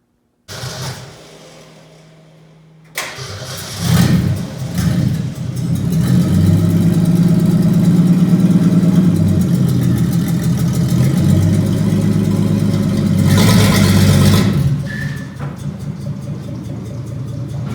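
Engine of a 1963 Ford Falcon running with no exhaust fitted, starting up after a brief pause and then revving loudly and steadily at close range for over ten seconds before settling back toward idle.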